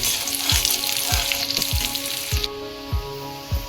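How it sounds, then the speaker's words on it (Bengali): Chopped onions frying in oil tempered with whole spices including cumin and dried red chilli, a steady broad sizzle with a few regular low thumps of stirring, close up, and no voices. "এর মধ্যে কুচিয়ে রাখা পেঁয়াজ দিয়ে দেবো। পেঁয়াজ একটু লাল লাল করে ভেজে দেবো।"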